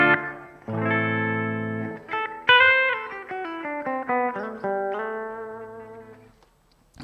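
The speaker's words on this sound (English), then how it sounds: "So that's a nice reproduction of a room sound." An electric guitar played through a pedal board with a room reverb effect: single notes and a chord ring out with a spacious ambient tail, played alone with no talking.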